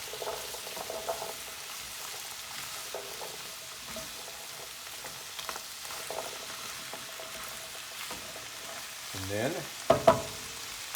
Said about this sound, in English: I'm going to throw in our can of garbanzo beans, also known as chickpeas. Mix those around a little bit.